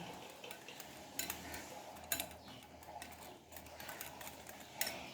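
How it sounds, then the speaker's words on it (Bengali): Yogurt drink (ghol) being stirred and mixed, giving soft continuous scraping and swishing with a few sharper clinks against the container, close and fairly quiet. "এইভাবে আমি মিশিয়ে নিচ্ছি"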